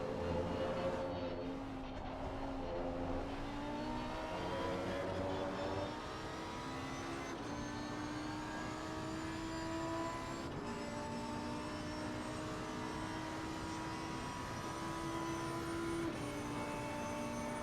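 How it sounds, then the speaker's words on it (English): Lamborghini GT3 race car heard onboard at Imola, its engine droning steadily with harmonic whine rising and falling through gear changes, loud and continuous throughout with no talk. "Let's watch a little of an onboard here from Matthew Schwartz, Hoonigan Code Red, number 11, Lambo GT3."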